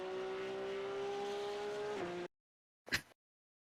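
A Porsche 992 Cup race car held at full throttle in iRacing, a steady, high, droning engine note that dips slightly before cutting off abruptly, followed by a brief, isolated thump.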